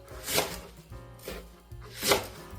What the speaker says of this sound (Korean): 이렇게 부추 좀 썰어서 넣으시고요